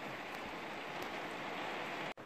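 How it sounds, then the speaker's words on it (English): Heavy rain pours steadily at How Stean Gorge in Yorkshire, a dense, continuous hiss of drops close by with a few sharper splats and no talking. "Still coming down loads, the rain"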